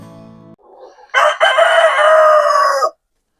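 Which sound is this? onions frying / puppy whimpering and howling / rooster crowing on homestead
rooster crowing on homestead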